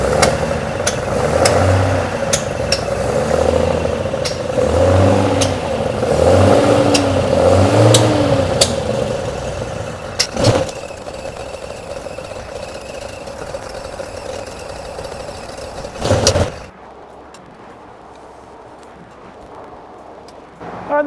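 A home-built Datsun 240Z with a newly fitted 123 distributor runs rough, a throbbing rev pattern swelling and falling near the start before it settles into a steady idle, then cuts off abruptly near the end.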